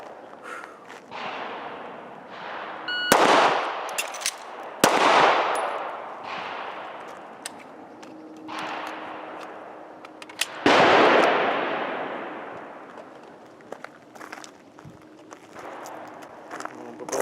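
Several sharp gunshots from an M&P9 pistol fired in a timed shooting drill, loud and close, spaced a few seconds apart with ringing decay and a faint background hum between shots.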